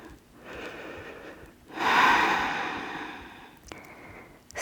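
Slow, deep breaths during a yoga stretch using a belt, heard close and breathy: a soft exhale, then a long, louder airy inhale that gradually fades, with no talking.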